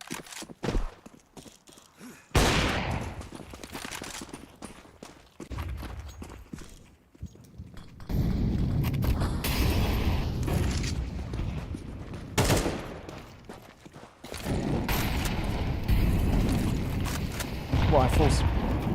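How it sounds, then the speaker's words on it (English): Rifle fire rattles and grenades burst in a Counter-Strike 2 match during a Baltic qualifier. The dense, loud gunfire comes in stretches under an excited commentator's voice. "Rifles rattling off shots. A lot of damage dealt by the nades."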